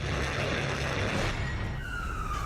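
Emergency vehicle sirens from fire engines and ambulances in Kyiv after a missile attack wail over loud, continuous street roar, with a rising tone emerging near the end.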